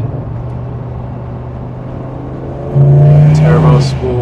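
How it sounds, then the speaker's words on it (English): Turbocharged Chevrolet Silverado with the cutout closed: a low engine idle swells into a loud rev, with a rising whistle of turbo spool and two quick bursts of blow-off valve hiss near the end, under a voice speaking. "You hear the blow-off valve and"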